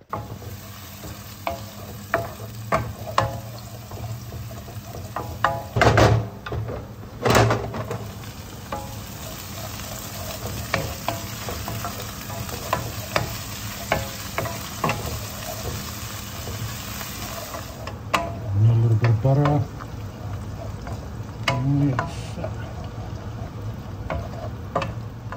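Crab and oil sizzle and fry steadily in a pan with no speech, while several louder clanks and scraping stirs of a utensil cut through at intervals.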